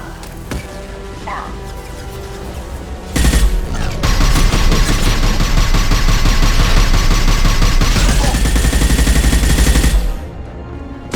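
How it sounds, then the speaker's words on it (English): Rapid sustained gunfire in the sci-fi game Mass Effect, a few early shots then a dense, loud fusillade for about seven seconds that cuts off abruptly, with a voice speaking during the shooting. "Firing a high-impact shot!"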